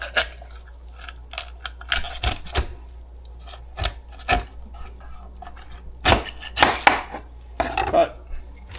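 Knife or shears cutting the backbone out of a whole pasture-raised chicken to spatchcock it, a run of sharp crunching cuts and snaps through bone, some loud and close, with quieter scraping between them and no talk.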